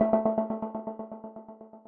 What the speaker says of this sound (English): You get these nice little chopping effects.